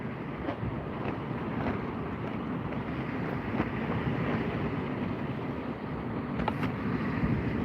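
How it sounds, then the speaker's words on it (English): Strong side wind buffets a microphone out on the water during kayak fishing, a continuous low rumbling roar with a few faint knocks, steady and close, with no talking. "A lot of side wind."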